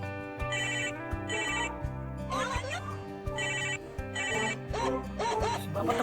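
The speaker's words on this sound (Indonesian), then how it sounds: "Bapak telepon nih, gimana nih? Angkat nih." A phone ringtone plays repeatedly in short bursts over a steady musical backing, loud and close, with no talking.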